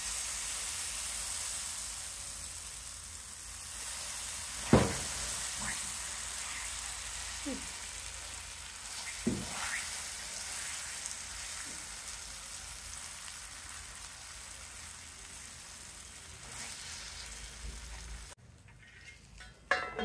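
Small vegetable utappam rounds made from batter fry in oil on a pan, a steady close sizzle with a few clinks of utensils, then the hiss cuts out near the end.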